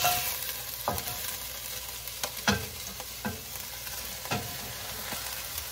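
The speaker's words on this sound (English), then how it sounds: "we are gonna add our cabbage" Cabbage sizzles and fries in a hot pot for a cabbage borscht, with a steady crackle broken by several sharp scraping stirs of a utensil, close and without talk.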